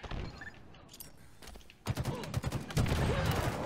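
Rocket launcher blasts in Halo Infinite gameplay, a burst of loud booming explosions and gunfire that thickens after a brief lull, with rapid repeated impacts close by.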